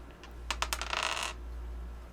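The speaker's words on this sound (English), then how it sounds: "Roll a 6-sided die." A six-sided die clatters across a table during a tabletop game, a quick burst of several sharp clicks and rattles over about a second against a low hum.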